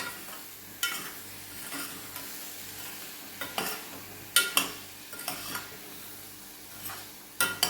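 A spoon stirs Gujarati chori lilva shak in a pan, with repeated scraping and clinking strokes against the metal over a soft, continuous frying sizzle, close and irregular, with no talking.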